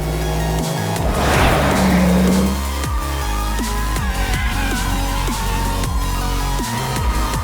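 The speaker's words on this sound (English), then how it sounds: "We have some heavy handling happening right now." A tire-maker's test car is driven hard through handling maneuvers, its engine note rising and falling in a steady loud roar with repeated revving swells and a brief tonal squeal early on.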